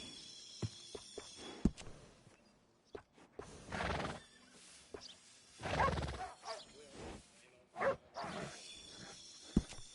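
A horse neighs in Red Dead 2, several loud whinnies rising and falling amid clip-clopping hooves and scattered clicks, fairly close and otherwise quiet.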